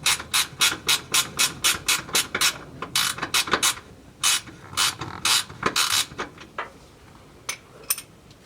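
A 10 mm ratchet tightening a fuel filter fitting on a 2004 Toyota Tacoma: quick, close, rhythmic clicking bursts that slow and grow sparser toward the end, no voices.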